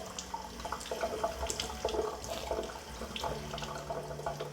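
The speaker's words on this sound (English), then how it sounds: "Water is coming out from that tap." Water runs steadily from a chrome digital water filter tap, splashing and gurgling close by with a continuous rushing sound and no talking.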